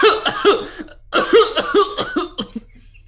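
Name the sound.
player imitating hysterical coughing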